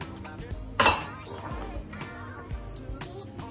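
A utensil clinks against a pan while fish curry is stirred over lowered heat, one sharp metallic knock near the start followed by softer scraping and tapping, quiet and close.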